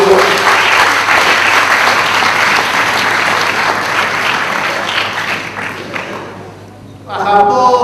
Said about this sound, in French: Est-ce que nous pouvons nous permettre de nous applaudir encore?